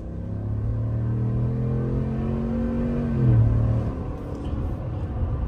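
A 2024 Chevrolet Silverado ZR2 Bison truck with a 10-speed transmission accelerates, its engine note climbing steadily, then dropping sharply as it shifts, before the rumble fades.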